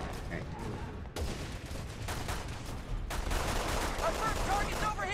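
Rapid video game gunfire rattles through a shootout in dense, continuous bursts, loud and close, with voices talking over the shots.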